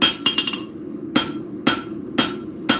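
A hammer strikes metal at a craft workbench: a quick cluster of light taps, then four sharp, ringing blows spaced about half a second apart, loud and close with no talking.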